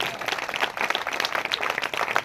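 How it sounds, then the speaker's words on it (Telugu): A church congregation at a Christmas service claps in an uneven, lively patter of many hands, brief and fairly close. "గట్టిగా నిజముగా నమ్మిన వరదలు చప్పట్లు కొట్టాలి."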